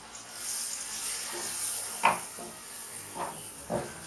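Onions softening gently in a pan for chicken pie, giving a quiet, steady hiss and sizzle with a few soft clicks and stirring knocks.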